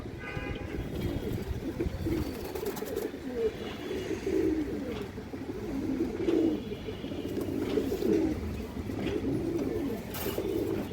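A male red khaki pigeon of good breeding gives soft, low, rolling coos in repeated phrases, fairly close and steady over a faint background hum.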